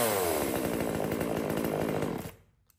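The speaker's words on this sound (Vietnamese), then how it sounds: "Rồi em nổ cho anh em nghe tiếng máy luôn này." A small M3 mini chainsaw engine runs at a steady buzzing idle-to-rev drone, loud and close, then cuts off abruptly near the end, leaving silence.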